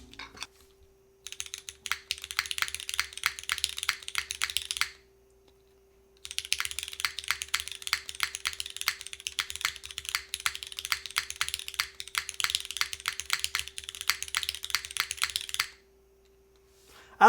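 Steady typing on a Neo60 Core mechanical keyboard in its gasket-mount build, crisp close keystrokes in two long bursts separated by a brief pause, with a faint constant hum underneath.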